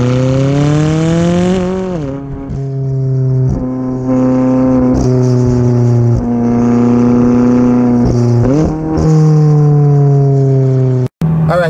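A McLaren 570S revs up through the gears under hard acceleration, its loud engine note rising in pitch with sharp drops at each upshift, close and dominant throughout.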